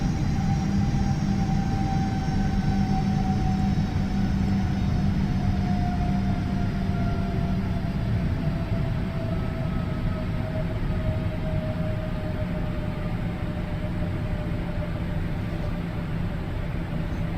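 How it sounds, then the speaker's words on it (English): Airliner engines in Microsoft Flight Simulator with the FlyByWire soundpack, on a Bristol to Edinburgh flight, hold a steady loud roar with a low rumble and a slowly falling whine throughout. "You can hear now the engines are peeled back"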